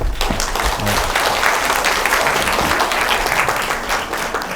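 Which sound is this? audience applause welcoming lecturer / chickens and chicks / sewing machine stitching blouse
audience applause welcoming lecturer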